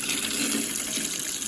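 Cold water runs steadily from a cheap $30 tap into an outdoor stainless steel sink used for washing garden vegetables, a continuous close splashing rush with no pauses.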